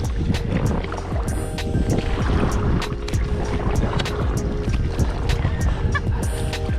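Paddles dip and splash in a canoe or kayak on a lake along the Icefields Parkway, giving a steady run of close water strokes over wind and faint ambient noise, with no talk.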